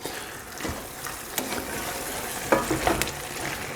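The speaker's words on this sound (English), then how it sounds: "I'm going to add my other tablespoon of chili powder. There we go. Okay, and again, and mix that all in." Ground beef browning in a pan for chili con carne as chili powder is stirred in, a steady close sizzle with scraping spoon strokes and a few sharp clinks of utensil against the pan.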